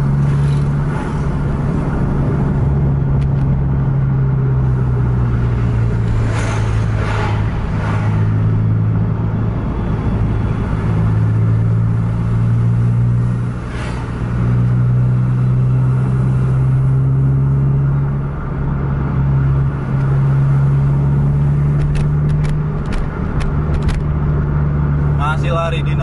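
A vehicle cruises at about 60 km/h while trailing a truck on the road, its engine humming in a steady low drone with slight rises in pitch, and someone talks over it throughout.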